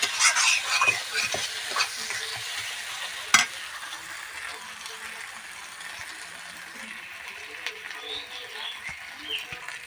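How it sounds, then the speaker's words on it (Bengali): Green chillies and spices fry in a pan, sizzling with scattered stirring scrapes. The sizzle is livelier at first and then settles into a quieter, steady crackle. "লঙ্কা আর মশলাগুলো একটু কষে নিই ভালো মতন"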